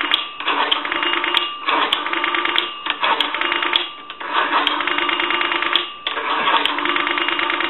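A telephone rings out on the line after a call is placed from a three-slot 233G payphone to a time and temperature number, giving repeated loud bursts of ringing with short gaps and faint clicks between them.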